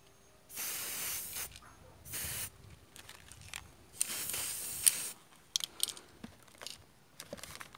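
Spray paint hissing onto a Honda Activa shock absorber in several bursts of one to two seconds each, close and loud, with small clicks and handling noises between sprays.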